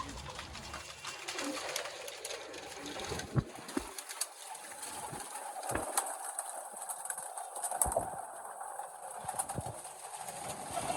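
Faint pigeon cooing drifts through a bird market in Malerkotla, Punjab, low and distant amid scattered clicks and background bustle.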